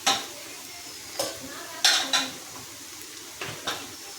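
Browned onions frying in a pan are stirred with a utensil, giving several distinct metallic scrapes and clinks at irregular intervals over a low background sizzle, close and without talk.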